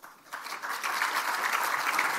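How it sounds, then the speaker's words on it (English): Conference audience applauds steadily, a dense patter of many hands that swells after a brief softer start and holds at full strength. "please welcome him with a big round of applause"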